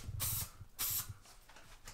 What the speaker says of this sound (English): What was the point of spraying it?